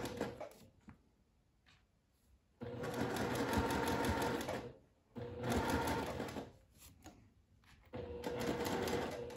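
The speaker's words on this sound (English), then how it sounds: "I'm going to go along between each set of pins and straighten out my gathers before I sew over them." A sewing machine stitches over the gathered bib ruffle of a sundress, running in three steady bursts separated by short pauses, close and clear with no talking.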